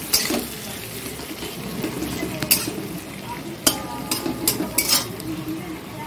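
Tomato pieces frying in a pan, a soft steady sizzle with a few sharp clinks and scrapes of a utensil against the pan.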